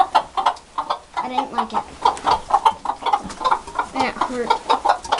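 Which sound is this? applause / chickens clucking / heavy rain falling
chickens clucking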